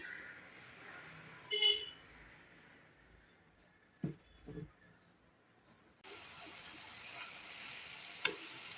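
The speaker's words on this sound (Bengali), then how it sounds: "কুমড়ো দিয়ে ডাঁটা দিয়ে আলু দিয়ে একটা তরকারি করছি" A vegetable curry of pumpkin, stalks and potato cooks in a pan: a few clattering stirs and knocks at first, then a loud, steady sizzling hiss that carries on to the end.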